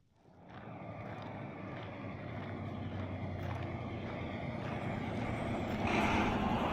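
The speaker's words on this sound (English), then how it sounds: "More trucks" Trucks rolling along a Mojave Desert road between Searchlight and I-15, a steady rising engine and tire drone that swells louder as they approach, with a brief brake-like hiss near the end.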